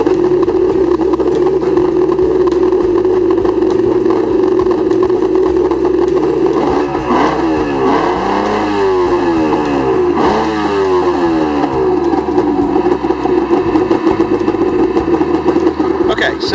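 A two-stroke Seadoo jetski engine runs without the choke, holding a steady buzzing idle with a brief rise in revs midway, loud and close, while someone talks over it.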